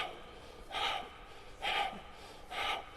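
Three deliberate exhalations during a yoga exercise, each a breathy rush of air about a second apart, close to the microphone with quiet pauses between them.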